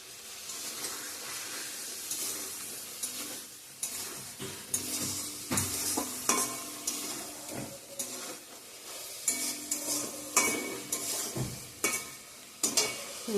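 A spoon stirs egg curry with garam masala in a pan, giving repeated scraping strokes over a soft sizzle, fairly close and without speech.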